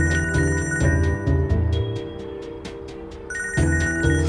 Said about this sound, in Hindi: फोन उठाओ और बात करो